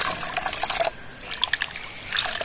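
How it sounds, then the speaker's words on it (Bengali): Coriander leaves are swished and rinsed in water, giving soft splashes and trickling drips in two short bursts separated by a brief quieter pause. "এবার ধনে পাতাগুলো ভালো করে জল দিয়ে ধুয়ে নিতে হবে।"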